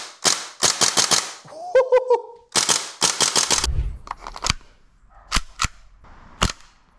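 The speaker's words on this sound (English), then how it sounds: "Probably the most insane recoil I've ever felt on a gas blowback airsoft pistol." A gas blowback airsoft pistol fires several quick bursts of sharp, loud cracking shots up close, with brief gaps between strings and a few isolated single shots toward the end.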